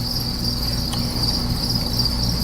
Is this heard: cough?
no